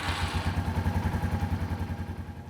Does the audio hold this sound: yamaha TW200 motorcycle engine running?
yes